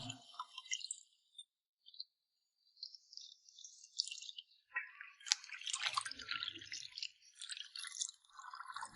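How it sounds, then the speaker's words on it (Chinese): Pig heart being rinsed by hand in a basin of clean water, with soft sloshing, dripping and squishing that come in uneven bursts after a short pause, close and fairly quiet. "然后放入清水中多清洗2遍"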